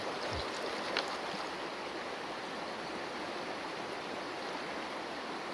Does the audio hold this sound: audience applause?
no